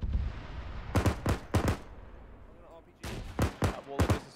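Bursts of mounted-gun fire in a military video game, coming in short groups of sharp loud shots, around six or seven in all, set against a steady rumbling background with voices in between.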